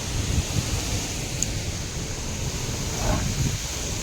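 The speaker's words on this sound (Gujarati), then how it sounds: "પવન બહુ છે." Strong storm wind blows in a village, a steady rushing roar with gusty low rumbles that continues throughout, with no voices.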